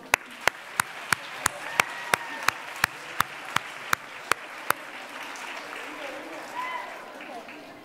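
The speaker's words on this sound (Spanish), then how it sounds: "Un aplauso." Crisp, evenly spaced claps ring out about three times a second for several seconds at a local event in Marbella, then stop, leaving quiet room tone with faint background voices.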